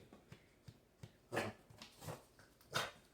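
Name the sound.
dog whimpering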